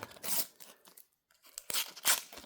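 Foil sticker packets from the Panini FIFA 365 2026 collection being torn open by hand, several close, crisp rips and crinkles with a brief quiet pause in between.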